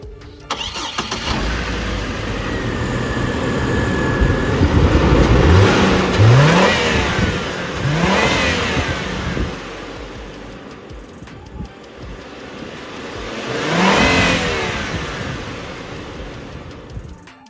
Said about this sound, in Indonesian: Kita pengen coba denger raungan dari mesin Vortex 3700 cc straight 5, iya 5 silinder.